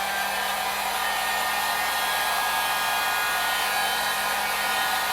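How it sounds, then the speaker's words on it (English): A Harbor Freight heat gun blows steadily on craft foam armor pieces for Halo cosplay, a constant loud broadband whoosh with a faint hum, running unbroken with no talking. "So, Harbor Freight heat gun,"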